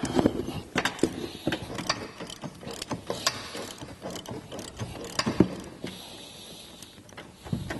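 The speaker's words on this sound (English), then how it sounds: "What we're using here is an 18mm socket with a 3-inch extension." A hand ratchet with an 18mm socket on a 3-inch extension loosens front bumper bolts on a Jeep JK, with repeated close, sharp clicking strokes in an uneven rhythm and a few knocks between them.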